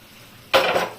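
Ridge gourd and eggplant in poppy-seed paste with mustard oil get stirred in a pan, a burst of scraping and clinking from a spoon against the pan that stops, then a brief second scrape, close and fairly loud.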